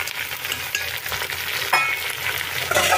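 Pumpkin and eggplant pieces hit a hot pan for a mixed vegetable sabji, giving a steady, close broadband sizzle with a brief louder surge midway and no voices.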